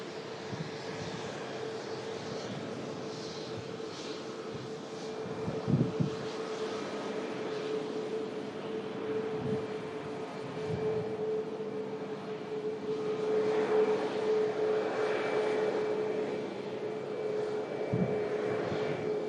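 A Ryanair airliner with split scimitar winglets at an airport: a continuous broad engine roar with a steady hum, swelling slightly louder toward the end, no talking.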